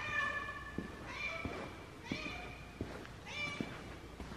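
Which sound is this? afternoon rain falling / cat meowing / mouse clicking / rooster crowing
cat meowing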